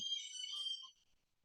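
A telephone rings once with a short, faint, high electronic ringtone burst that fades out within a second.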